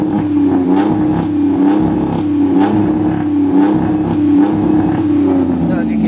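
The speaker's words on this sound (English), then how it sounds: "I'm gonna pump the gas." A 2006 Dodge Magnum with exhaust work sits idling as the gas is pumped, its engine rising and falling in repeated low revs close by, with someone talking over it.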